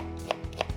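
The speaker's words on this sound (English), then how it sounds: "chopping the onions" A knife chopping onions on a board, two quick crisp cuts close up, a brief light rhythm heard alone.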